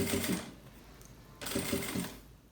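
Sewing machine stitching plastic piping trim, two bursts of rapid mechanical whirring separated by a short quieter pause, close and alone.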